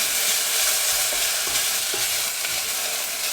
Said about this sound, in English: Then add the curry leaves and the cumin seeds. And make sure you keep stirring.